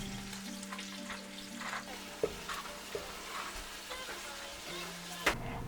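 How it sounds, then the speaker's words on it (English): Garlic, fresh ginger, chopped onions and carrots sautéing in a cast iron pan, a soft, steady sizzle over a low hum, with occasional clacks of stirring, quiet and close, no speech. "in a cast iron pan and sauté garlic and fresh ginger. Then add chopped onions and carrots."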